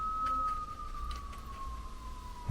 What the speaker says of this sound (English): Wow, you hear that? Hear those sirens?